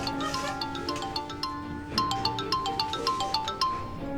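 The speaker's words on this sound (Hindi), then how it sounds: "उठा लो फोन।" Mobile phone ringtone, a bright repeating melodic electronic tune with regular pulsing beats, clear and steady without any talking.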